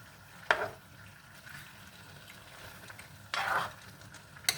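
A spoon stirs chopsuey broth with beans in a cooking pot, producing two or three brief scraping, sloshing strokes over a quiet simmering background.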